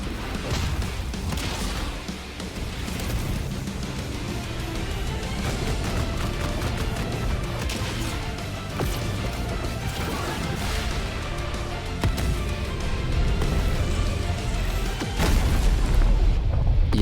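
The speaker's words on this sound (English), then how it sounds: "Secondly is my favorite move in the game, titled Exploding Star. I'm just gonna let the cutscene speak for itself." Explosive booms and crashing blasts from the Exploding Star attack cutscene in Heroes Battlegrounds, loud and dense throughout with rapid detonations, swelling into a heavier final blast near the end.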